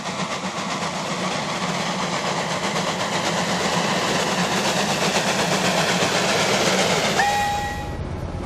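A Garratt-type narrow gauge steam locomotive headed by a Class NG-15 runs past in a loud, steady rumble with rhythmic wheel beats, and a sustained whistle tone sounds near the end.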